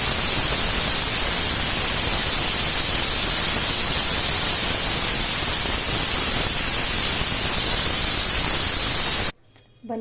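A loud, steady hiss of escaping steam from a pressure cooker whistle, cooking egg biryani, runs nearly ten seconds without a break, then cuts off abruptly into quiet.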